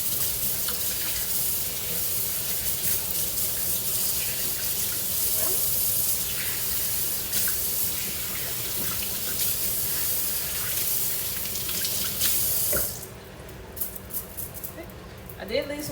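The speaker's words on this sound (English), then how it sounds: "Let me wash my hands." Water from a kitchen tap gushes steadily as hands are washed during home baking of hazelnut bars, a loud continuous hiss that cuts off near the end, leaving small clatters.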